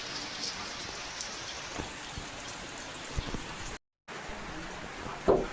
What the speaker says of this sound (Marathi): आमच्याकडे बघा खूप जास्त पाऊस यायला लागला आहे आता